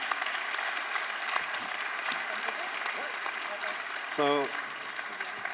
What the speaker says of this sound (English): Can I have a big round of applause for Yumgo?